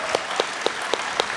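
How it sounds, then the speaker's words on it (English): Clapping from a convention panel audience, five sharp, evenly spaced claps in a quick rhythm over a low crowd murmur. "Can I get a round of applause, please, for Mr. Ryan Parrott?"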